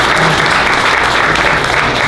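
An audience at The Improv comedy club breaks into loud, dense clapping that fills the room evenly without a break.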